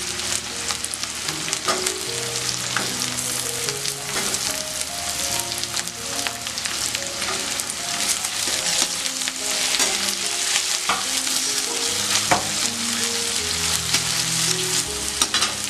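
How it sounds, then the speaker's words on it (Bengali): Chopped onions and ginger frying in a pan, with a steady loud sizzle and repeated scraping and clinking as they are stirred, heard close up under soft background music. "দিয়ে আমি পেঁয়াজটা একটু নাড়াচাড়া দিয়ে ভেজে নিচ্ছি"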